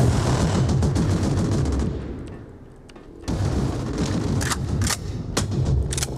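Loud bursts of gunfire and booming impacts from the first-person shooter DUST 514, sustained heavy firing that thins out briefly mid-way before resuming with sharp shots.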